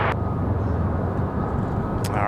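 Copa airliner flight 466 landing on runway 23 right at Raleigh-Durham airport gives off a steady, continuous jet roar that stays at an even loudness throughout.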